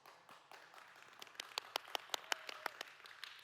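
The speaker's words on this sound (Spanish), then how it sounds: "Este aplauso era para el ex endemoniado." Church congregation applauding during a sermon, a faint, brief clatter of hands that swells into a run of sharper claps before fading, heard from a distance.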